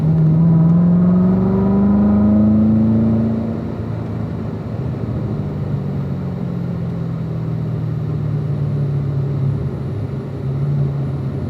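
On a race track, a car engine pulls hard and loud, its pitch rising as it accelerates for a few seconds, then drops to a steadier, lower drone as it carries on down the circuit.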